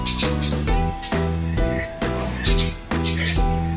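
Birds pester a cat outdoors, giving repeated loud, close chirps and calls in short bursts, with no one speaking.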